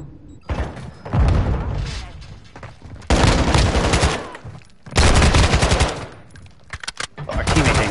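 Gunfire in a video game match, several heavy automatic bursts separated by short pauses, loud and close, with talk in between.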